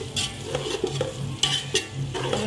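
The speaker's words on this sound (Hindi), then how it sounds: "अब इसमें पहले मैं ये गाजरें डालूंगी जो मैंने ब्रीक ब्रीक काट के रखी थी" Carrots cut into pieces stir-fried in a hot pan for Chinese rice, a continuous sizzle with quick scraping strokes of a spatula, close up and without speech.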